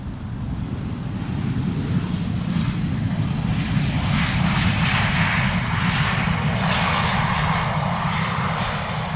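An Airbus A319 airliner in from London Heathrow is heard at Amsterdam Schiphol, its engines a steady, loud low roar that swells slightly midway, with a broad hiss above and no talking.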